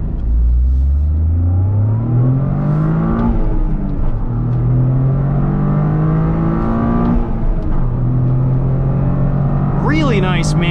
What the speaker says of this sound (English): Really nice manual transmission in this GR Corolla. Crisp changes, really nice definition to each of the gates too.